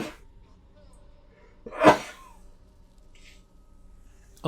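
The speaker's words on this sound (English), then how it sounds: "I'm going to sneeze right now." One sharp, loud sneeze bursts out close to the microphone partway through; before and after it there is only faint background hum from a gaming session.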